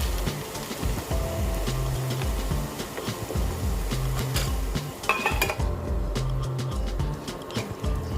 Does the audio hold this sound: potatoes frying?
yes